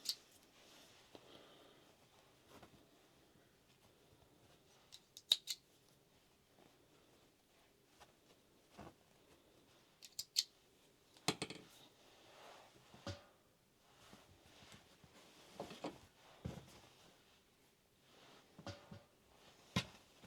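Scissors trim fabric while a Charm Patterns Monroe dress is sewn, giving faint, scattered snips and small clicks at irregular intervals across a quiet room, with no talking.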